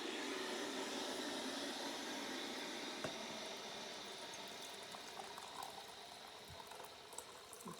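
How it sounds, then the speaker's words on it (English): Water heating toward a boil in a classroom science setup, a steady broadband hiss and rumble with faint bubbling pops, continuous and fairly quiet, no voices. "Sounds like my hot water is ready."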